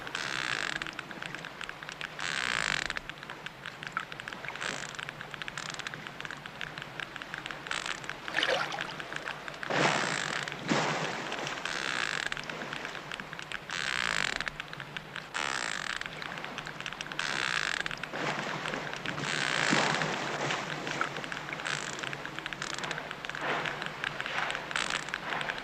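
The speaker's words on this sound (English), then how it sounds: "The constant clicking is the sonar beeps of the baby." Hydrophone recording of a baby whale underwater: a constant run of sonar clicks arrives in dense, rhythmic bursts over a low wash, fairly faint and continuous throughout.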